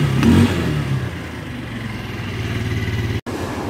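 A 2022 Denali YN50 QT scooter engine runs close by, opening with a brief rev before settling into a steady, buzzy putter, with one momentary dropout near the end.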